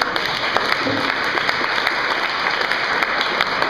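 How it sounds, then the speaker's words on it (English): Sustained audience applause fills an indoor event hall, steady and dense from start to finish with no talking over it. "So let's give her a big round of applause."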